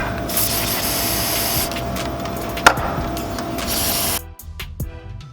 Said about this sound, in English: spray down your header / exhaust manifold bolts with penetrating spray